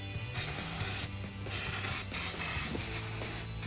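Oil is sprayed to clean a machine in steady, loud, hissing bursts that pause briefly several times, with a faint mechanical rattle underneath.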